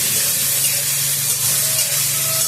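Hot pan sizzling loudly as fish oil is poured in for a cabbage ghonto made with radhuni paste, a steady close hiss and spatter with no speech.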